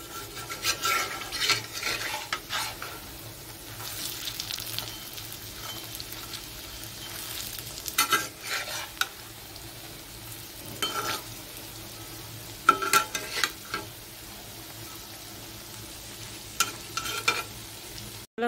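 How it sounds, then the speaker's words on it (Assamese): Flower pakoras sizzling in hot oil in a pan while being stirred and flipped, a continuous crackling fry broken by intermittent scraping and clinking of a utensil against the pan, close up with no voices. "এইফালে এইখিনি উল্টাই দিওঁ।"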